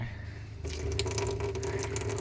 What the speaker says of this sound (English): Oh, pump's drawing more coolant.